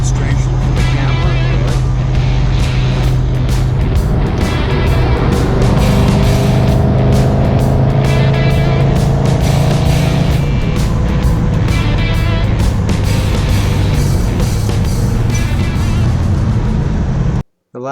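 A 1970 Plymouth Road Runner with a 440 Six Barrel V8 roars loudly as it accelerates hard, its engine note climbing through the gears with a brief drop at a shift, sustained and close before cutting off abruptly at the end.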